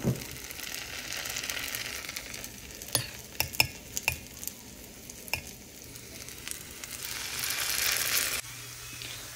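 Spoonfuls of bora fritter batter fry in hot oil, a steady soft sizzle with a few sharp clinks of a spoon or utensil against the pan, the hiss swelling louder near the end.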